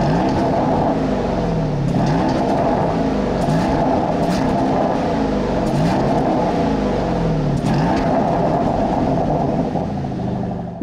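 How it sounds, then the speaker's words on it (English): Engine and exhaust of a 2024 Porsche Cayenne with new intake, valves and exhaust revving repeatedly, a loud close-up rising-and-falling drone that swells several times without reaching high revs, with no talking. "Porsche tells me it has a new intake, new valves, and a new exhaust, which sounds pretty good"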